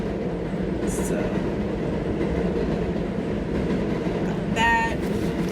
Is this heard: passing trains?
yes